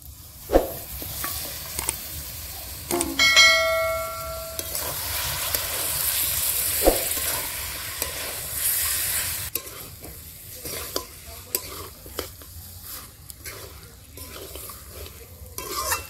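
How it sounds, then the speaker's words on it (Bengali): Steady sizzling and frying with repeated scraping and stirring of a spoon in a pan as fried chicken is mixed into tomato gravy, occasional clinks, continuing for a long stretch without talk. "টমেটো গ্রেভি বানানো হয়ে গেছে, ভাজা মাংসগুলো ঢেলে দেবো"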